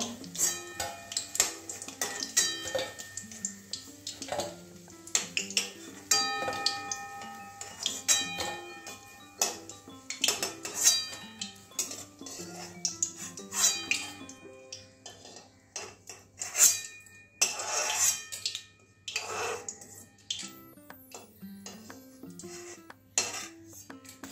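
Fried soybean fritters being lifted into a bowl, with repeated light clinks and taps of metal utensils against cookware, irregular and fairly quiet, set against background music.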